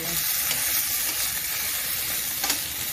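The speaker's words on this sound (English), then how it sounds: "Alright, so I'm going to check my sausages. Those are cooking really nicely." Sausages sizzle in a pan with a steady, close frying hiss and a few faint crackles and pops. No one speaks.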